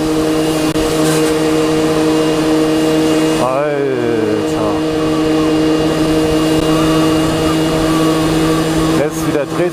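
A car engine is held at very high RPM while climbing a slight incline on the way to refuel. It makes a loud, sustained droning whine through the whole stretch, with a brief wavering dip partway through.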